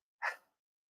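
A single short sneeze from a woman cooking in a kitchen, loud and close, followed by silence.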